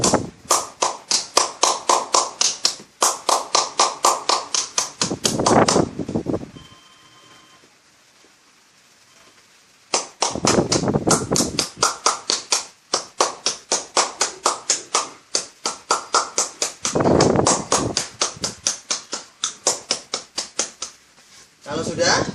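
Palms pat rapidly on a man's back during a warm totok-oil massage for head and neck pain, in long even runs of close, crisp slaps, with short pauses where people talk.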